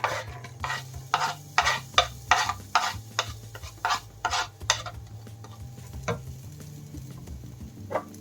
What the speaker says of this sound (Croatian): Kad se zagreje, vidjet ćete dalje. Dodajemo luk.